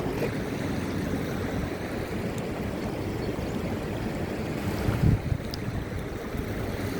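Outdoor water flows and washes steadily, mixed with strong wind buffeting the microphone and a brief louder splash or thump partway through; nobody speaks.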